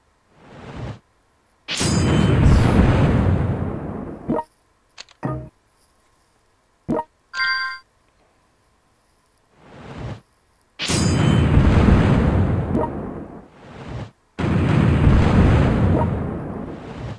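Ships shell a coastal fort in World Conqueror 4, with loud booming explosions in long rumbling bursts and a few sharper single blasts between them, separated by brief silences.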